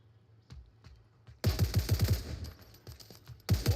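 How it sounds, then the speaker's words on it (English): Gunfire in an online close-quarters shooter match: a few faint distant shots, then a loud rapid burst of roughly eight close shots, a pause with scattered pops, and another burst at the end. "He's shooting at roofs."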